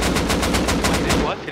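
Rapid automatic gunfire in the survival video game Rust, a fast burst of about a dozen evenly spaced sharp shots that stops abruptly.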